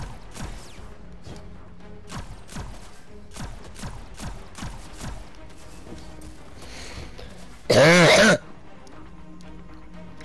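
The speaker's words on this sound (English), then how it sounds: "That was a good cough." A single short, loud cough bursts out over the sounds of a Destiny 2 game session, which carries on quietly with steady background effects before and after it.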